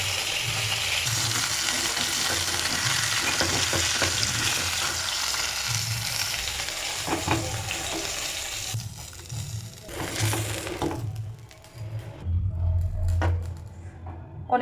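Bhetki fish fries in oil in a pan with a loud, dense sizzle and occasional spatula scrapes and taps, the frying dropping away toward the end as the pan goes quieter.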